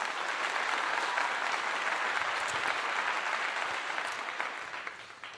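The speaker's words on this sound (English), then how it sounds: "Let's give him a clap." An audience applauds at a Colorado football post-game press event after the Oklahoma State game: a dense, steady wash of clapping that holds evenly, then thins and fades over the final second.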